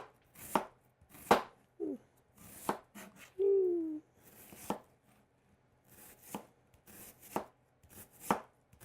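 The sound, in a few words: knife slicing red onion on cutting board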